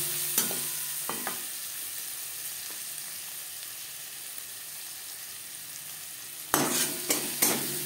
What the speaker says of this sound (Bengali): টমেটো হালকা করে ভেজে নেব। আর লাগছে হলুদের গুঁড়ো।